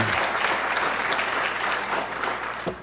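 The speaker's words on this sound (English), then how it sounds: "let's give them a round of applause, each one of them as they stand up" Steady applause from an audience at a panel event, many hands clapping densely and continuously throughout, with a brief low thump near the end.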